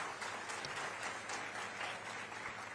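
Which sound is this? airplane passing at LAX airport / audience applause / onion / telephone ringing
audience applause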